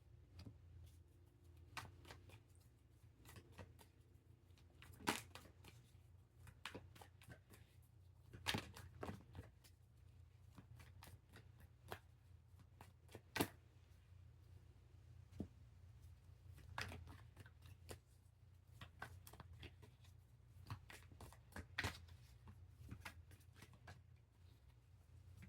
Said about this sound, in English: As I'm shuffling this cards